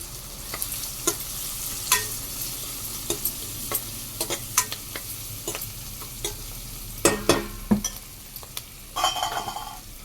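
Chickpeas frying in a pan with a pinch of turmeric being added, giving a steady soft sizzle under repeated sharp stirring scrapes and clinks of a utensil against the pan, with no talk.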